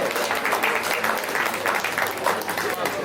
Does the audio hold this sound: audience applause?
yes